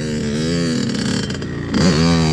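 A two-stroke motorcycle engine, ridden by someone learning to wheelie, buzzes loudly and close by. Its revs climb and fall in short bursts of throttle, ending in a sharp rising rev.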